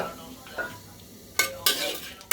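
Vegetables for a vegetarian dish being dry-fried in a pan with a little oil, with soft stirring, then several sharp scraping bursts of a utensil against the metal pan.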